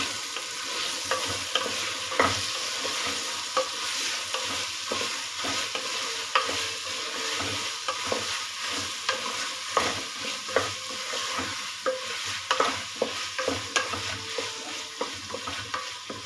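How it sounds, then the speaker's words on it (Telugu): Beans, carrots and vegetables stirred in a pan for vegetable pulao, with a steady sizzle of frying and repeated soft scraping strokes of the spoon, close up and without speech. "బీన్స్, వెజిటేబుల్స్ అంతా వేసాక బాగా కలుపుకొని"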